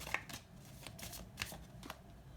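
A deck of oracle cards being shuffled, a handful of quick soft riffling bursts spaced unevenly over a couple of seconds, close but quiet.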